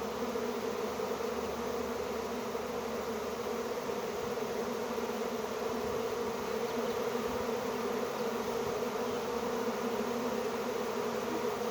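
A honey bee swarm buzzes steadily around a hive during capture, a dense, continuous drone holding even and close throughout with no voices.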